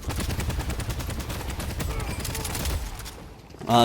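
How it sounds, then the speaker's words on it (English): Rapid gunfire in the video game Deadlock, aimed at the head of an enemy tower, a steady dense stream of shots over game sounds, ending with a brief louder effect. "You'll notice that I'm shooting the head of the tower."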